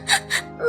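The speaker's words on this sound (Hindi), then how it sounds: "रोने की आवाज सुनकर माँ भागकर उसके पास आती है" A young girl in an animated Hindi story cries in two short, close wailing sobs followed by a rising whimper, brief and alone with no other voices.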